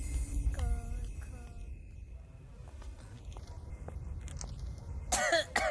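A person coughs several times in a row, close and fairly loud, with throaty rasping bursts, followed by a harsher cough near the end over a faint background murmur.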